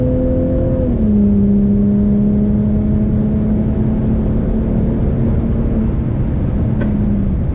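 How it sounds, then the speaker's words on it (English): Volvo S60 T6 in Stage 2 tune pulling hard down a drag strip, a steady loud engine drone throughout, tone dropping at the shift, with a single sharp exhaust backfire pop near the end. "My car just popped when bam! Backfired."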